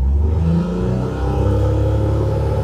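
A 2023 John Deere XUV835E Gator sits parked at low idle, its engine giving a loud, close, steady low rumble with a slight mechanical clatter and no talk.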